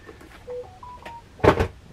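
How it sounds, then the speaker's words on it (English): A phone going off with a few short electronic tones stepping up in pitch, then a louder clunky burst near the end, all close and brief. "Phone going off."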